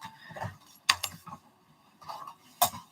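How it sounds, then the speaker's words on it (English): A metal zipper pull jangles and clinks in a few separate bursts, small sharp metallic chinks spaced over a couple of seconds in a quiet room. "I guess I am using that zipper pull because I can't find my other zipper pulls."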